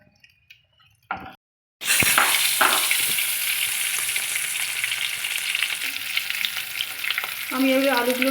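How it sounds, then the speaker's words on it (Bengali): Potatoes frying in a pan for a dhaba-style egg curry: after a near-silent second, loud, steady sizzling begins and continues throughout, with occasional stirring clinks and a few brief squeaks near the end. "আমি এবার আলুগুলোকে একটু ফ্রাই করে দিচ্ছি।"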